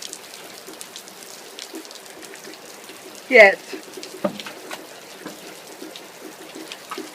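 Steady patter of rain falling outside, soft and continuous, with a voice briefly speaking over it and a couple of louder knocks or splashes nearby.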